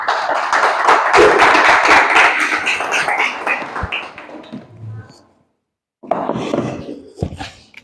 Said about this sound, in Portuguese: Vamos aplaudir a palavra que é vida?